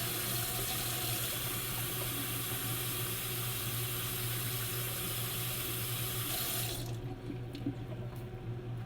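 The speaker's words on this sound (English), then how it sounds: "Gonna rinse off my cans" Steady, loud rush of tap water running over cans of evaporated milk at a sink, continuous and close for most of the clip before cutting off abruptly near the end.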